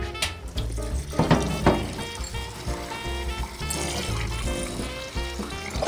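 Tap water running into a campsite sink for washing rice, a steady splashing trickle with bursts of pouring, heard close up under the voices of an adult and a small child.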